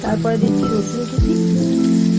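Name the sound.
chopped garlic frying in oil and butter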